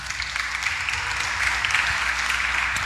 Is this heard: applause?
yes